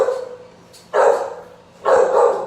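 A dog gives two loud, close barks about a second apart, each a full, sustained woof, with no talking over them.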